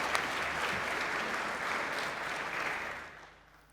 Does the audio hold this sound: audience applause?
yes